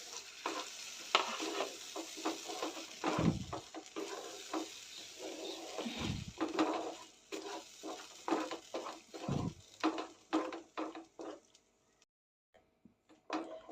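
Soaked cashew, peanut and sesame paste fries in a thick gravy, with a close sizzle and frequent clattering stirs of a spoon, dying away into near quiet near the end.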